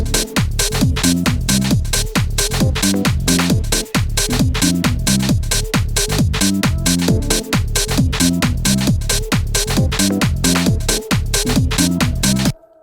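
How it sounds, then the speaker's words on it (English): Punchy synth chord stabs hit in a syncopated pattern over a driving old-school garage beat with heavy kick and crisp hi-hats, loud and continuous throughout. "we have this really nice like chord stab"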